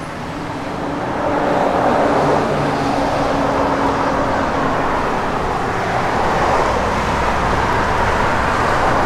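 A 1967 Pontiac LeMans convertible on the move: a steady, fairly loud engine and road roar with a low rumble that swells slightly early on, then holds even, with no talking.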